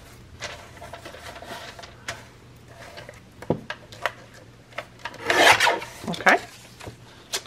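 Cutting and trimming junk mail paper with scissors for a window flip card, close rasping snips in irregular bursts that build to a louder run of cuts near the end.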